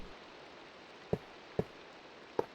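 Rain falls in a Minecraft modpack world (Enigmatica 2), a soft, even hiss held throughout, broken by three brief sharp clicks, with no voices.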